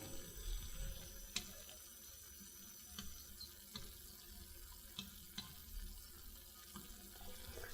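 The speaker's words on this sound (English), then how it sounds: "Pour 10 ml of distilled water into the test tube." Distilled water poured into a laboratory test tube, a faint, steady trickle with small clinks and drips scattered through, recorded quietly and close with no talking.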